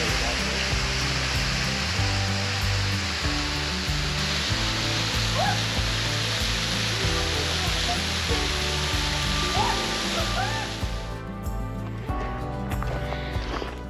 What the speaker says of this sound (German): Und wenn man eine Erfrischung braucht, kommt der Wasserfall genau richtig.